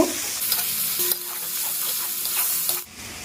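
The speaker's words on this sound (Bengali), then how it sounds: "তেলের মধ্যে দিয়ে দিলাম পেঁয়াজটাকে আমি একটু" Onions frying in oil in a pan for butter soya chunks, a loud steady sizzle with a few stirring scrapes. The sizzle cuts off sharply near the end.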